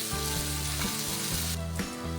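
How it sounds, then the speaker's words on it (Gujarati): Grated green turmeric fries in ghee for a winter vegetable dish, a loud steady sizzle broken by a few stirring scrapes, with no talking. "હવે આપણી લીલી હળદર ચડી રહી છે"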